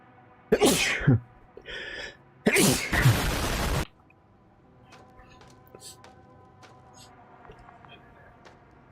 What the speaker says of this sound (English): Every year, my sneezes become louder and louder and more aggressive.